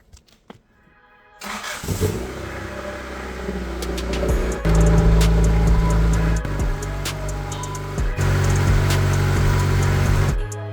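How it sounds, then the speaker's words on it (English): Honda CRX engine cranking over and catching, then running with a steady, slightly uneven idle and occasional stumbles from misfires, close and loud with no talking. "So I'm just gonna start the car up so we can hear the engine and see what the misfires sound like."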